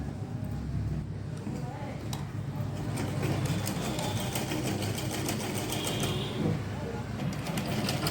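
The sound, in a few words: sewing machine stitching a strip onto a baby suit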